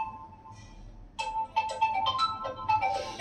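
A mobile phone ringtone plays during a home Vinayaka Chavithi puja in Nellore, a melodic electronic tune of repeated tones starting after a quiet pause and ringing on clearly.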